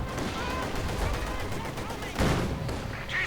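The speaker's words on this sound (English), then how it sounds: "they are taking heavy losses to the machine gun and the 45mm gun on the T-70" In a Company of Heroes match, a machine gun and a T-70 tank's 45mm gun fire in dense overlapping bursts, with a heavier blast near the end. The shots sound under continuous commentary.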